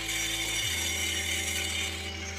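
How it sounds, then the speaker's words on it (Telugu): Handheld power cutting machine slicing a wiring chase into a wall at light-point level, a loud steady whine with a hum that drops in pitch about half a second in, continuing alone throughout. "ఆ లెవెల్లో మనం ఈ మిషన్ అనేది కటింగ్ అనేది చేస్తున్నాను నేను"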